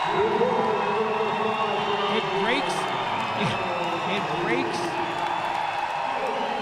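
A crowd roars steadily after a basket in a Rio 2016 Paralympic wheelchair basketball game, a dense arena wash that never lets up while a commentator talks over it.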